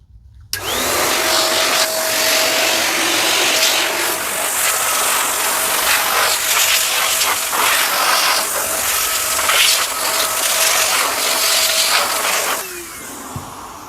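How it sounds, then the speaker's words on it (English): A powerful car dryer blower switches on abruptly and roars with a steady high-pitched whoosh for several seconds while drying a rubber floor mat, wavering slightly as it moves, before cutting off. "the way you can do it is you can use a blower or car dryer"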